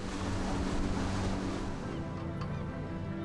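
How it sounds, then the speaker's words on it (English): Motorboat crossing Tangier Sound on the Chesapeake, a continuous broad rushing of water and wind over a low engine drone, steady and fairly loud, with no talking. "he's motoring across Tangier Sound, heading for his usual destination"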